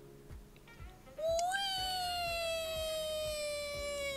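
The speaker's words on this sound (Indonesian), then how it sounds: "Kenapa tiba-tiba ada kucing di Minecraft? Okay, kucingnya kucing real ini." A real cat lets out one long, drawn-out meow that rises and then holds steady. It sounds close and fairly loud over faint, regular ticking from a Minecraft game.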